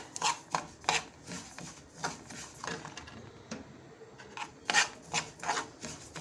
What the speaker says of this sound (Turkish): Önce susamla bir kavurayım.